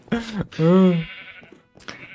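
Minecraft sheep bleating in a short wavering baa, loud and close, followed by a quieter second sound, with no talk over it.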